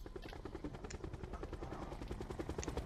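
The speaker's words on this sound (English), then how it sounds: "I'm gonna bring the helicopter in front of that building." A helicopter in Call of Duty: Black Ops 4 battle royale gives off a steady, rapid rotor chop, quiet and continuous, with faint game effects over it and no voices.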